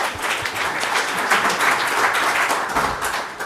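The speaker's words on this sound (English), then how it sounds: "Give them a round of applause this morning" A room full of people gives a steady round of applause for three presenters at a morning startup community gathering, the dense clapping loud and even throughout with no talking over it.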